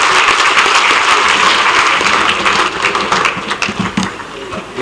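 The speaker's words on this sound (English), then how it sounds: "These presenters a round of applause," An education conference audience in Kenya applauds the presenters, a loud round of clapping that thins out toward the end, with a few voices heard beneath it.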